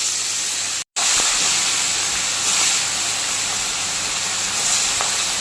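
Bata fish fry in hot oil in a wok with a loud, continuous sizzle and hiss, close up, broken only by a split-second silence near the start.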